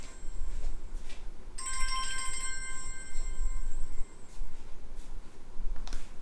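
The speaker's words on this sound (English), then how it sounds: "Let me just put the ringer off as well so it doesn't ring again." A mobile phone ringtone plays a short bright electronic melody for about three seconds, moderately loud over a steady background hiss and rustle, with no talking.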